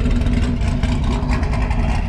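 A modified Krypton Green sixth-generation Chevrolet Camaro, tuned to about 535 wheel horsepower, runs with a deep, steady engine rumble heard up close and loud throughout.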